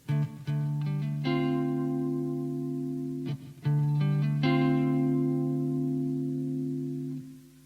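An electric guitar plays a short palm-muted chord riff from a song: a few choppy strikes on the top two strings, then a sustained ringing chord, repeated twice.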